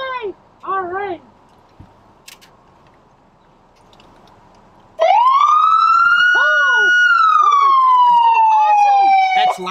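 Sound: police car siren

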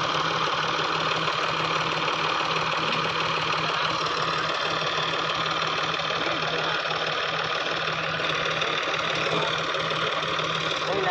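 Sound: tractor engine running

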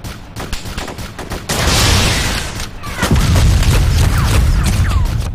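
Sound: gunfire in video game ArmA 2

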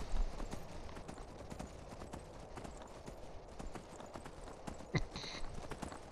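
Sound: horse walking, video game Skyrim

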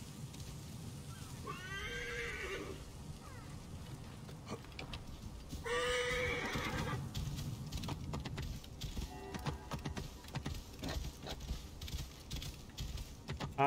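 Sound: horse neighing and hooves in video game Assassin's Creed Origins

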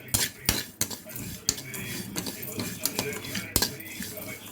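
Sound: sesame seeds and peanuts dry-roasting in a pan, stirred

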